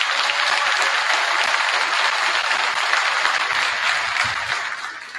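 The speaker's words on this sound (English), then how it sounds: "let's give a big round of applause for the teachers" An audience at a sixth-grade spring school band concert applauds for the teachers, a dense, loud, steady clapping wash that tapers slightly toward the end.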